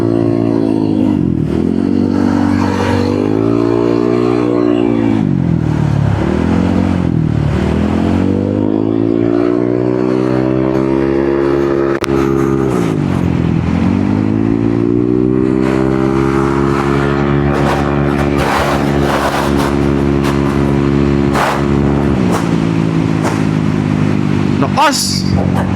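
Honda ADV 160 scooter with an upgraded CVT and remapped stock ECU revs repeatedly, its engine note rising and falling in loud close sweeps with brief dips between blips, over a steady running hum.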